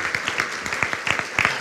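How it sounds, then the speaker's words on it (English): Scattered applause from a small audience at an urban environmental justice event, individual claps distinct and uneven in rhythm, fairly close and moderate in volume, with no one speaking over it. "Give yourselves a round of applause."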